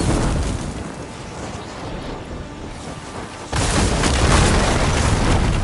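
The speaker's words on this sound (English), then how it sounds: "Hitting those blaze barrels with fire ammo should do the trick" Blaze barrels exploding after being hit with fire ammo in Horizon Forbidden West: a loud, broad roaring blast bursts in partway through, over a constant rumbling background.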